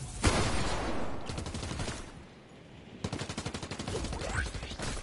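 Bursts of rapid gunfire at an enemy in Fortnite, loud and close, in two runs separated by a short lull, with a voice talking over parts of it.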